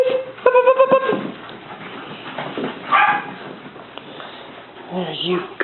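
Puppies give a few close, short yips and whimpers in a home, with a woman calling to them and talking warmly throughout.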